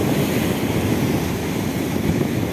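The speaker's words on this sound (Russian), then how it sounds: "Море какое. Ой, какие волны." Sea waves break onto stones and throw up fine spray, a continuous loud broadband wash and roar with wind buffeting close to the microphone.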